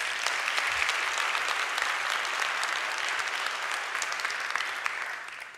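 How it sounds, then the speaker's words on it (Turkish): A conference hall audience at a property-management professionals' summit gives a sustained round of applause, a dense and even wash of clapping that holds steady for several seconds before tapering off, with no talking. "Ben tüm Apsion ekibine de kocaman bir alkış rica ediyorum sizden."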